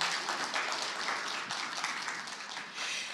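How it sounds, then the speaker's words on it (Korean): Steady applause from a crowd at a history speech contest, a dense wash of clapping that holds evenly for a few seconds with no voices on top. "다시 한번 격려의 큰 박수 부탁드립니다"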